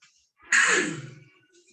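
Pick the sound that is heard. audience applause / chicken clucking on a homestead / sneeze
sneeze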